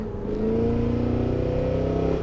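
A 2023 Cadillac Escalade V revs its engine, giving a loud, steady throaty exhaust drone that climbs slightly in pitch through the full stretch, with no talk over it.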